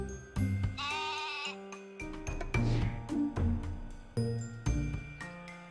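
Sheep bleat repeatedly, close and loud, mixed with bright tinkling bell-like tones in a lively, jumbled sequence.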